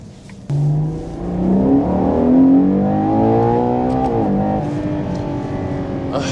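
A naturally aspirated 725-horsepower V12 in a 2025 Ferrari Purosangue revs hard under acceleration, its smooth rising howl climbing in pitch, dipping briefly, then surging again, loud and close throughout.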